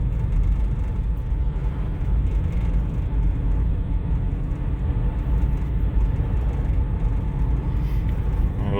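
A Toyota Highlander with a transmission fault drives along with a steady loud engine and road drone that holds throughout, with no distinct jerks standing out and no voices.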